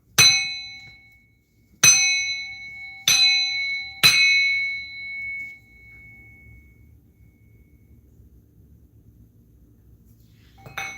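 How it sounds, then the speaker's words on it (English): A struck metal bell rings out four times in uneven succession, each hit bright and clanging with a long shimmering decay, then a fifth strike sounds faintly near the end after a quiet pause. "I'm going to bang this bell to close it out"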